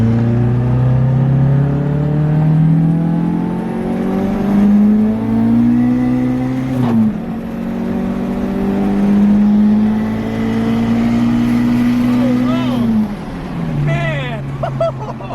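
A turbocharged Toyota Starlet running 22 psi boost pulls hard nearby in second gear, its pitch climbing steadily before a brief dip and another long rising run under acceleration.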